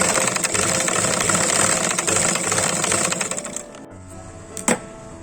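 A sewing machine stitches piping onto the neckline and sleeves of a child's dress, a loud, fast, steady whirr that stops near the end, followed by a short clack.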